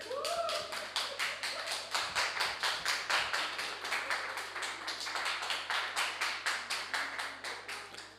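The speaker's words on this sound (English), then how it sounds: "Let's keep the applause going." A small audience at a ministry debate applauds after a speech with steady, rapid, rhythmic clapping, individual claps clear and close, running on evenly before tapering slightly at the end over a faint low hum.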